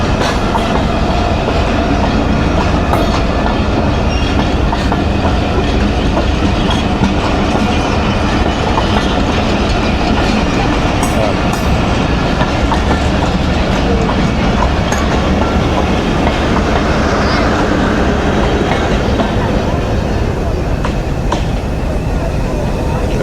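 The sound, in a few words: Hazara Express train passing the station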